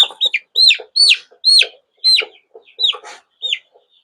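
Two fifteen-day-old Tiger breed chicks being weighed chirp and cluck close by, with a rapid series of bright, rising peeps and short gaps between them, loud and clear with no talk.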